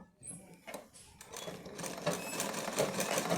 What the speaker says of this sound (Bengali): এইখানটায় সেলাই করে এটাকে ফিক্স করে নেব